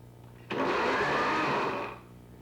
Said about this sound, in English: putting some whole garlic cloves into the blender, adding a little bit of honey just to cover it